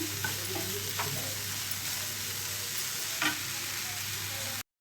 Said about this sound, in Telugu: మరొక్క నిమిషం వరకు ఇలా ఫ్రై చేసుకొని స్టవ్ అయితే ఆఫ్ చేద్దామండి